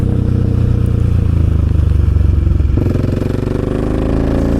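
A Husqvarna 701 motorcycle engine runs close and loud with a steady, thumping single-cylinder idle, its tone shifting partway through as the revs change.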